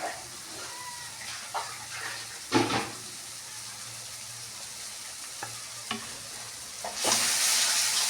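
Masala spice paste frying in a pan for a silver cup fish curry, a steady low sizzle with occasional stirring scrapes and clinks, moderately close, ending in a louder hissing burst.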